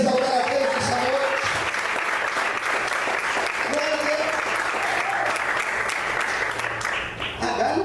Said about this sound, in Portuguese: Você pode aplaudir o Senhor e exaltar a Deus essa noite.